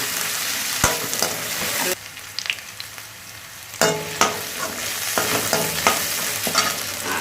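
Onions with asafoetida sizzle in a hot pan while a spoon stirs and scrapes, giving repeated clinks and scrapes over a steady frying hiss, with a brief quieter pause midway.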